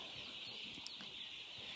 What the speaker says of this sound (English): So this is our big pen of broiler chicks.